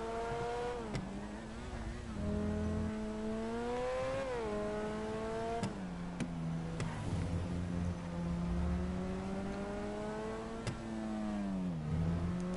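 A car's engine revs while driving, its pitch repeatedly climbing and dropping in smooth sweeps, steady and fairly close, with no talking over it.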